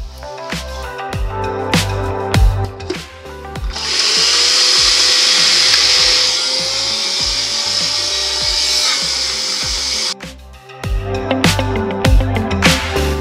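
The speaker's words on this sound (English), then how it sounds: "And I'm just going to blend this." A blender whirs loudly through a dry powder mix for sugar-free, low-carb milk chocolate, holding one sustained grinding run of about six seconds, with clattering handling sounds before and after.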